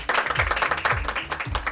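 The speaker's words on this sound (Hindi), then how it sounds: "भरपूर क्लैप करें ग्रीन क्रिसेंट के लिए" An audience at a Green Crescent Trust event claps together in a short, dense burst of applause that is loud and close.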